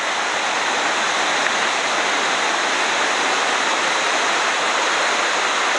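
Cascade Waterfalls near Port Vila, Vanuatu, roaring in a loud, unbroken wash of falling water that stays steady from start to finish.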